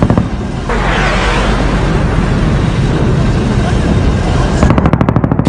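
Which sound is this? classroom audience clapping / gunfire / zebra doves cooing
gunfire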